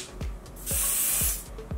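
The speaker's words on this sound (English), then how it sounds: "So I actually just spray it straight onto the brush or onto the back of my hand." A makeup setting spray bottle is spritzed onto a brush in short hissing bursts, with a longer mist spray in the middle, close and loud.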